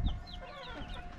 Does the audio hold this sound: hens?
yes